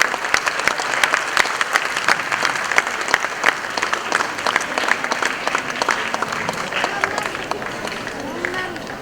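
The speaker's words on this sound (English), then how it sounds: "Please give her a big round of applause" Audience applause at an Independence Day celebration honouring performers, sustained steady clapping from a large crowd with sharp individual claps standing out, filling the whole stretch at a fairly loud, even level.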